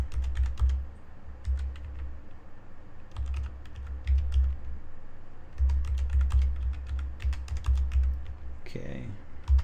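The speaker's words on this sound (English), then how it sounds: "Still think typing is slightly faster." Someone types on a computer keyboard close up during a game jam session, producing rapid bursts of clicking keystrokes separated by short pauses, with no one talking.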